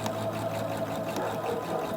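A sewing machine runs continuously, stitching small fabric pieces for doll-sized leggings, a steady close mechanical whir and hum with no pauses.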